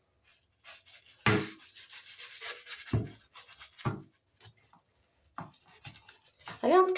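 Someone scrubs around the silicone sealant of a bathtub during cleaning, short rubbing strokes coming in scattered bursts with pauses between them, close to the microphone.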